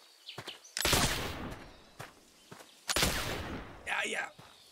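Gunshots from hunting in the video game The Oregon Trail: two loud, sharp blasts a couple of seconds apart, each with a short rumbling tail, separated by a few fainter clicks, with a brief voice near the end.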